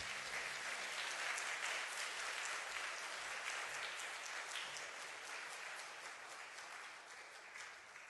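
A church congregation applauds warmly and steadily, the sustained clapping of many hands filling the room and then slowly tapering off.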